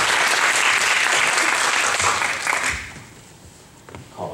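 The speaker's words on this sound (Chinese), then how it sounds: "我们以热烈掌声欢迎" Audience applause welcoming a professor to the podium at a social policy forum, loud sustained clapping that fades out after about three seconds, leaving a quiet room with a faint sound of movement.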